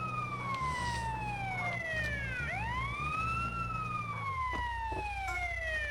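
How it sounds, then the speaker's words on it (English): A wailing ambulance siren in GTA The Definitive Edition sweeps down and back up, loud and close over an engine drone, with no talking. "you hear the sirens, then you need to go away"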